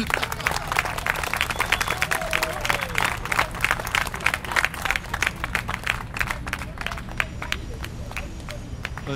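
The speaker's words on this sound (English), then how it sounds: "Applause, applause." An audience at a Q&A session bursts into sustained applause, dense rapid clapping from many hands filling the room, slowly thinning toward the end, with faint crowd murmur underneath.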